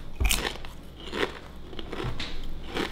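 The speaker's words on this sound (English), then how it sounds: "They got the crunch and the texture along with the flavor." Someone crunches Miss Vickie's salty potato chips up close, with a sharp first bite followed by several crisp, crackly chews spread unevenly across a few seconds, no talking.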